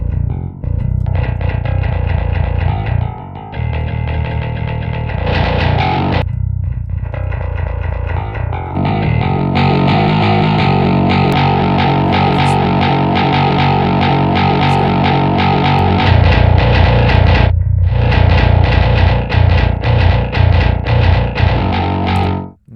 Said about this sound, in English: And now let's do some distortion too.